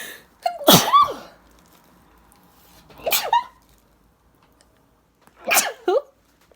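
Three separate sneezes spaced a few seconds apart, each a sharp, close burst from someone with allergies, with quiet room between them.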